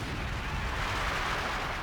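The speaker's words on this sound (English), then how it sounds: "Oh my gosh, that's what it is. It's concentration barrage." Artillery concentration barrage in the Company of Heroes video game, a dense, continuous roar of overlapping blasts and rumble that stays loud and steady throughout.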